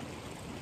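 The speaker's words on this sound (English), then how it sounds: "I'm back down amongst the trees, little creek crossing." A small mountain creek flows beneath trees at a log crossing on the Four Pass Loop near Maroon Bells, Colorado, making a brief, close, full rush of water on its own.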